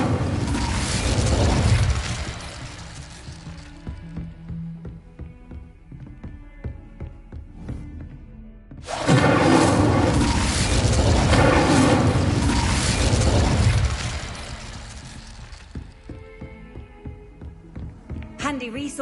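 An Incendio fire spell goes off in Hogwarts Legacy as a loud, broad whooshing burst of flame. A second long fiery roar follows after a quieter stretch of game noise, with speech present in the mix.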